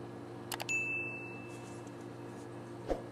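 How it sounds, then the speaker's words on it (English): Wind chimes ringing outside a home, heard as a faint bright ding or two with a brief sustained metallic tone that decays slowly over a quiet background hum. "I hear my wind chimes. They sound so pretty"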